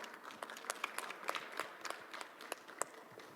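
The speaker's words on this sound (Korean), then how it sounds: "큰 박수 부탁드립니다." An audience at a forestry expo talk concert claps in applause, a faint, scattered patter of many hands with uneven sharp peaks, heard from a distance without speech.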